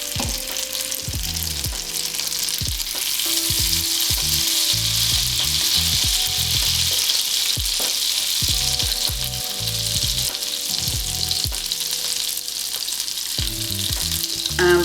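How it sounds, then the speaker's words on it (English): Loud, continuous sizzling of butter and olive oil in a hot frying pan, a dense crackling hiss that carries on steadily throughout. "we have some butter melting in the frying pan"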